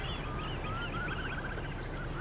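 Swans call at a British seaside park: a few thin, nasal honking and whistling notes rise over a soft, steady background hum, faint and somewhat distant.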